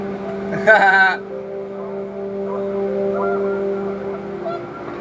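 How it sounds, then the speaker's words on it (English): Panicked geese honk in a burst of loud, harsh calls near the start of a scene in the video game What Remains of Edith Finch, set against a steady wind-like drone with background music. "The wind picked up, and panicked geese appeared and quickly went."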